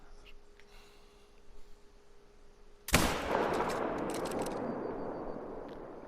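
A single loud hunting rifle shot fired at a whitetail buck in a hunting video game, sudden and sharp after quiet ambience, with a long rolling echo trailing away behind it.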